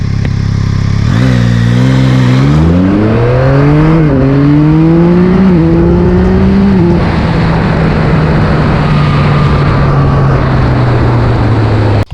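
A 2025 Yamaha MT-09 with automatic transmission revs hard from 0 to 100, climbing through several gear changes in a loud, rising whine before settling into a steady high-speed drone.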